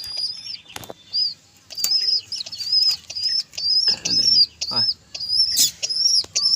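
Pigeons flap their wings in several quick, loud bursts up close, while high-pitched bird chirps and tweets repeat throughout.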